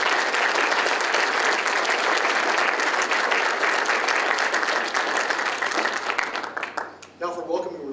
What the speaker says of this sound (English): how about a round of applause for Class 134?